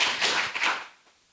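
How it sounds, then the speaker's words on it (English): A short burst of audience clapping after a talk about AI, a brief flurry of hand claps that fades out within about a second. "I think we can give him a bit of a clap for that."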